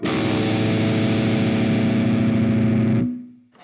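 A heavily distorted electric guitar in low B tuning holds a thick, buzzing seventh interval, loud and sustained, before cutting off and leaving a brief ringing tail.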